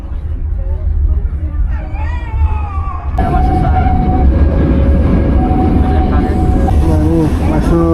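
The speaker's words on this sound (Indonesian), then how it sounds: "Ini berangkat meninggalkan stasiun Cimahi." Siliwangi passenger train pulling out of Cimahi station, a loud continuous rumble and rattle of the railcars heard from on board, with crowd chatter, squealing tones and a louder surge partway through.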